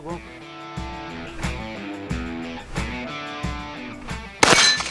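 Bullets strike a steel gong target at a tactical shooting challenge, giving repeated metallic clangs with ringing tails, ending in a louder burst, while someone speaks.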